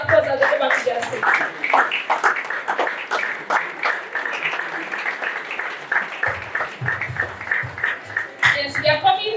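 Audience applause at a MindTalk alumni testimonies event, steady clapping from many hands lasting several seconds, with a voice speaking over it near the end.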